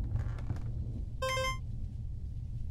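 In The Hex PC game, a telephone gives one brief bright electronic ring, a quick trill of about a third of a second, standing out over a low background hum.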